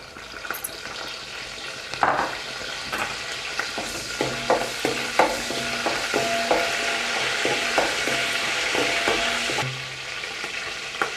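Curry leaves fry in hot oil in a pan, a steady sizzle broken by repeated stirring scrapes and clinks at a moderate level.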